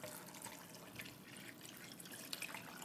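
A little water is poured into a pot of apple, carrot and ginger soup, giving a faint, continuous trickle with a few soft drips, quiet and close.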